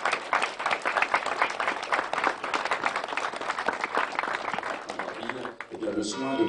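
Crowd applause at the inauguration of the Koufra oath monument marker in Louvigny, dense clapping throughout that thins near the end as a voice begins speaking.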